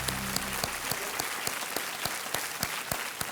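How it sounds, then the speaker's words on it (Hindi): Studio audience on a TV quiz show breaks into applause, a continuous even patter of many hands with a few crisp close claps popping out at a steady pace. "तालियों के साथ आपका अभिनंदन"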